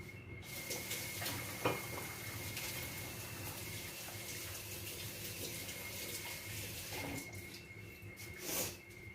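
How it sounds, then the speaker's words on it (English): Tap water runs continuously into a kitchen sink during hand washing, a steady close hiss with faint splashes and a couple of brief knocks, and no talking. "Let me wash my hands."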